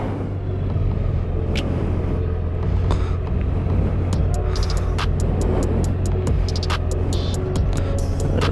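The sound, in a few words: vehicle engine starting and running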